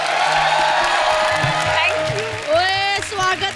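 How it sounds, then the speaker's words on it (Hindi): Studio audience at a TV comedy show clapping and cheering with whoops and loud crowd noise, mixed with music and people talking over it. "तालियां बजा दो"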